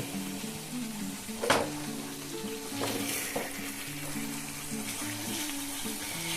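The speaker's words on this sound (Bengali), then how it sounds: "এখন সব ভালো করে এগুলোকে মিশিয়ে নেব।" Spices and red chili powder are mixed in a frying pan over a quiet, continuous sizzle. A few sharp scrapes from the spoon break through, a low tonal hum sits underneath, and there is no speech.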